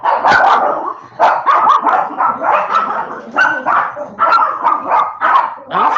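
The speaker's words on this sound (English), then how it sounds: "I think somebody must be walking dogs out there or playing games or something." Several dogs bark outside in repeated, overlapping bursts with some yips, fairly close and loud throughout; a voice briefly speaks under them.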